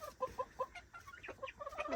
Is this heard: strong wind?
no